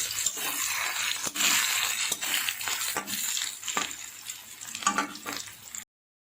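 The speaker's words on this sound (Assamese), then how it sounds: "মই ল' ফ্লেমত এইখিনি ভাজি আছোঁ, বেছিকৈ হাই ফ্লেম কৰি দিলে এইখিনি দহি যোৱাৰ সম্ভাৱনা আছে" Peeled potatoes frying on a low flame in a pan with turmeric and salt give a steady close sizzle, broken by repeated scrapes and clinks of a spoon stirring against the pan, before cutting to silence at the end.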